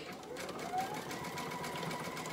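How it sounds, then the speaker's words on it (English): A sewing machine zigzag-stitches a loop of elastic into a circle, giving a steady, moderately quiet mechanical whir that holds without a break. "And I'm going to put this into a circle and zigzag it."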